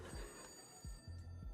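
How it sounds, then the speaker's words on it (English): Telephone ringing indoors, a fairly faint repeating electronic ring with short bursts and brief pauses between them, heard alone without talk. "Hey, Sean, did we get a new phone?"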